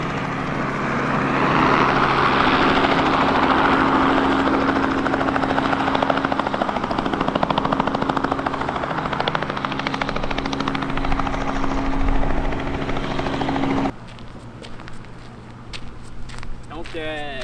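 A helicopter lands nearby in the small town of Radisson, its loud, steady rotor and engine roar filling most of the recording before dropping off sharply near the end, with a person talking over it.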